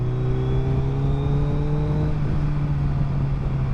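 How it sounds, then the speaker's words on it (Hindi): A 2023 Suzuki Hayabusa with a flashed ECU holds a steady, loud engine drone under light throttle in second gear, with the rear wheel spinning. The tone drifts slightly downward and then levels off. "पीछे से हल्की सी थ्रोटल है तो व्हील स्किट करता है दूसरे गियर में"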